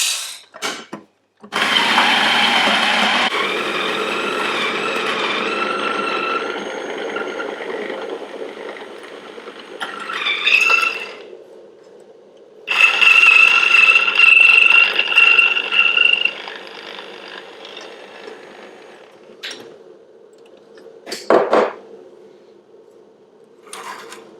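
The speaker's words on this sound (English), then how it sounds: "So it finished grinding just now" Electric coffee grinder working through aged, humidified coffee beans, a steady buzzing whir with rattling bursts and high whine, close and fairly loud, stopping and restarting in several spurts between quiet gaps.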